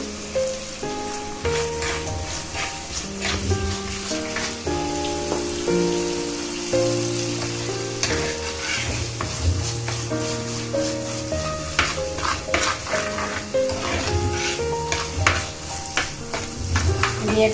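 Steady, crackling sizzle of green chilies and curry leaves frying in hot oil for fish curry, with occasional stirring clinks against the pan throughout.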